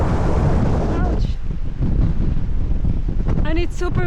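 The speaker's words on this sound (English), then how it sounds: "and it's super windy, guys." Strong wind buffeting the microphone on a cliff walk in northern Bornholm, Denmark, a loud continuous roar with gusts, with a voice briefly speaking near the end.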